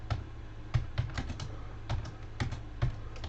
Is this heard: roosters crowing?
no